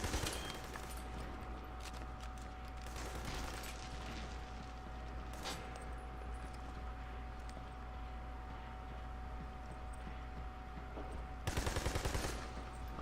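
Gunfire in the Army of Two: The Devil's Cartel video game, shooting explosive barrels in a training area: a steady bed of game noise with sharp shots near 3, 5.5 and 11.5 seconds, the last a dense loud burst.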